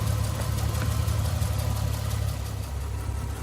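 A 2004 Infiniti G35 engine runs steadily during an alternator charging test, a continuous low idling rumble with a slight rise in the first seconds, close and fairly loud with no talk.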